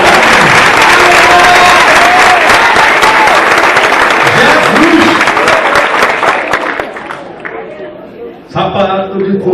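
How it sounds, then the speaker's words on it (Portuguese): Loud, sustained applause from a church conference audience fills the hall, mixed with cheering and crowd voices, tapering off near the end before a brief resurgence. "aplaude aí para glorificar o nome de Jesus."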